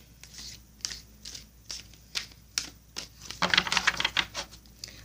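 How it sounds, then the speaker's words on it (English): An oracle card deck being shuffled by hand, a run of soft riffling bursts building to a denser, louder flurry near the end, close and alone without speech. "One more shuffle and I'm going to cut this oracle deck for you."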